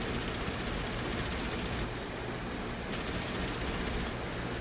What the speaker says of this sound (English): the machine guns and the cannons all seem to be firing off the same button